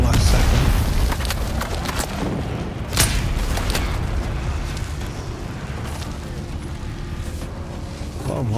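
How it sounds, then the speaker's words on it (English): Bombs go off in a Dune Awakening fight with deep booming blasts, one sharp crack standing out amid a continuous rumbling roar, loud and close. "A lot of bombs in here."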